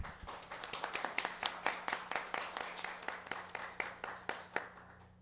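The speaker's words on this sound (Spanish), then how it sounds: "pido que lo recibamos con un muy fuerte aplauso" Clapping at a book presentation, a modest group applauding in a fairly quiet, rhythmic patter with distinct individual claps, sounding somewhat distant and thin.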